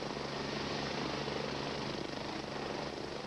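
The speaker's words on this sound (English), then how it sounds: "A life flight helicopter was called in" A life flight medical rescue helicopter's steady, rumbling rotor chop and engine roar, loud and continuous throughout with no voices.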